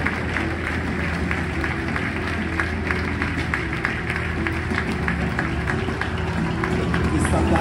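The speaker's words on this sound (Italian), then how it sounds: "Ed è l'applauso del pubblico." A crowd claps and cheers at a Special Olympics event in a stadium in Turin, a steady, loud wash of applause that continues without pause, with a voice talking faintly over it.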